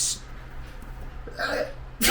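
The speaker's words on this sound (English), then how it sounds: "These sneeze attacks." A sudden sharp sneeze bursts out near the start, followed by a short breathy exhale and another abrupt burst at the end, close and loud.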